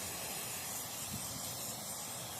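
Spray paint can hissing steadily as it coats an end table, a continuous close, dense spray with no pauses and no voices.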